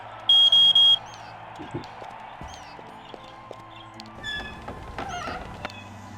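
A smoke alarm in Ultima 9 sounds three quick, shrill beeps at the start, followed by scattered in-game footsteps and soft clatter.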